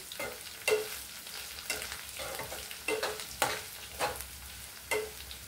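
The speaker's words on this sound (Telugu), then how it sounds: "ఇంకా 5 మినిట్స్ వేగితే చాలండి" Raw banana pieces fry in a pan, with continuous sizzling punctuated by regular scrapes and clanks of a spatula stirring every second or so, close up and with no voices.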